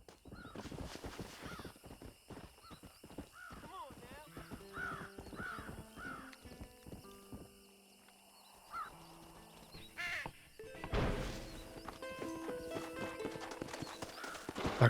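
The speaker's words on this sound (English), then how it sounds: "Back on the horsey." Horse hooves clip-clop in Red Dead Redemption, a quick run of close rhythmic hoofbeats at the start with crow caws and scattered game sounds following, then a louder burst of movement near the end.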